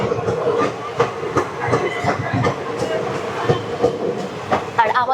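The Kanchanjangha Express rumbles past at Malda, with continuous loud rolling noise and rhythmic wheel clacks, heard close from aboard another train.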